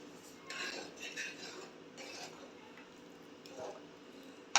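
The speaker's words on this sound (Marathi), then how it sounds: "मी आता गॅस बंद करून घेते आहे आणि भाजी बाउलमध्ये काढून घेते आहे." Vegetable curry is ladled from a pot into a bowl, making faint scattered clinks and scrapes of a metal ladle against cookware in a quiet kitchen.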